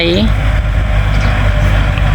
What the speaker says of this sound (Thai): รถไถกะลังเสียนไถ